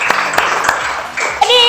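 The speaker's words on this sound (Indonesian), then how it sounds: "Kasih tepuk tangan dulu." A few scattered hand claps ring out in a school classroom after a student's reading. They are brief and sparse, and voices are heard around them.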